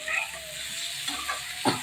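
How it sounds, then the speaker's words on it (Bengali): Potato, capsicum and tomato frying together in a pan, a short close burst of steady sizzling with a few soft stirring scrapes and a clack at the end, no voices. "আমি ভাজা ভাজা করে নিচ্ছি আলু আর ক্যাপসিকাম আর টমেটো।"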